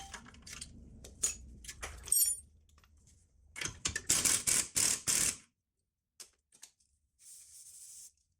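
Metal wrenches clinking and ratcheting while loosening a tie rod bolt on an Audi A4 B8, sharp close metallic clatters and a rapid burst of clicks, then brief pauses and a final softer ratcheting.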